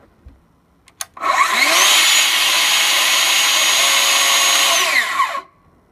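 A Festool TSC55 cordless track saw spins up and runs for the first time, a loud steady high whine that climbs in pitch, holds for about four seconds and winds down, with a few clicks just before it starts.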